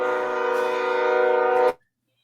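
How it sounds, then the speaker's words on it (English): A train horn sounds loud and close, holding one steady sustained blast for under two seconds before cutting off abruptly into near silence. "I heard the train cut in right there."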